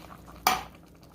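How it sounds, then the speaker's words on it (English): A single brief scrape of a utensil against a cooking pot, stirring a mixture of rice mix, water and cooked chicken, with a quiet clatter and no voices. "Let's get it all mixed together."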